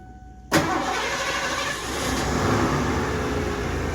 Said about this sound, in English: Sounds like an 80s Ford. Month and a week. Yeah. Yep. Fired right up.